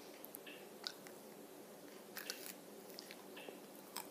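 Crisp bites into a frosted cinnamon roll Pop-Tart toaster pastry, a few close, crunchy snaps followed by soft chewing against quiet room noise.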